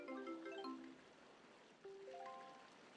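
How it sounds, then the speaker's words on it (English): Filling an empty bottle with water in Zelda: Wind Waker brings a short run of bright, bell-like chime notes, a rising and falling tinkle, then a second chiming phrase after a brief lull, over soft background music. "grab an empty bottle, and I'm gonna fill it up with water"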